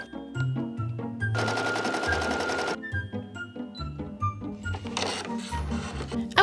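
Embroidery machine stitching cut-out leaf shapes for a 3D effect on a corset, with rapid rhythmic needle clatter broken into several bursts and pauses, some passages running denser and faster, close and fairly loud, no talk.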